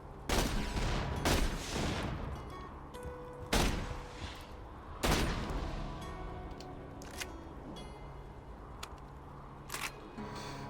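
A bandit rocket launcher in Borderlands 2 fires several times, each shot a sharp loud blast with a decaying rumble, spaced a second or more apart, followed by a few fainter distant pops.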